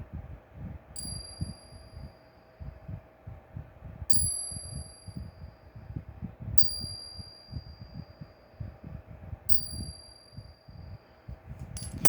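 Four clear metallic dings of dropped silver coins sound one after another, each ringing briefly with a high shimmer, above a low continuous rumble.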